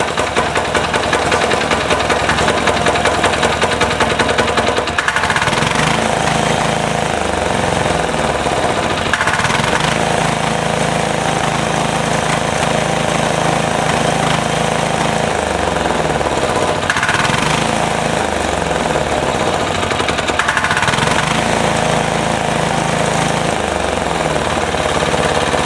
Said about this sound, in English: Okay, time for some revs.